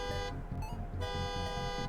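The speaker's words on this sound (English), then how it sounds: "a car alarm" Car alarm in the Five Nights at Freddy's video game, a loud repeating horn-like blare in a steady pulsing rhythm, sounding alone with no speech.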